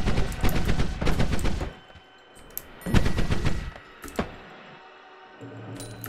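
Bursts of gunfire aimed at the player in the game Noita, two long rapid volleys of shots with a single sharp report between them, loud and up close.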